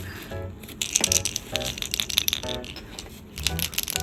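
A handled doll rattles with small, irregular clicks and crunchy shakes in bursts over several seconds, close and fairly quiet.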